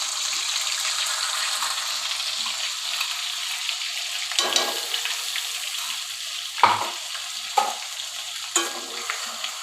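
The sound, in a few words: curry paste frying in hot oil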